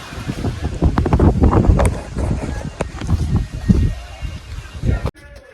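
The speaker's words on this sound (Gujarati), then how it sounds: "મિત્રો પવન ફૂલ ચાલુ થઈ ગયો છે" Strong monsoon wind buffets the microphone in heavy gusts while climbing the steps of Girnar, with a voice speaking under the roar before it cuts off abruptly.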